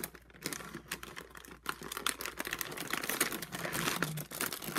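Oreo cookie packaging is peeled open, giving close, quiet crinkling and tearing crackles in irregular bursts.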